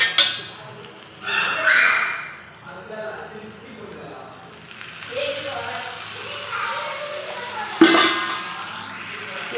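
Ragi adai frying in a little oil on a pan, giving a steady crackling sizzle that runs beneath a speaking voice, with a sharper spatter near the end.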